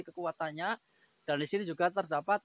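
Crickets chirp as a constant high, thin drone near a forest graveyard in daytime, running steadily beneath a man's close speech that stops and starts.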